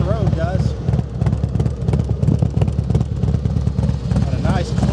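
A Harley-Davidson Softail Deuce FXSTD motorcycle engine, inspected and service-checked, rumbles at a steady idle with a continuous low throb under someone talking over it.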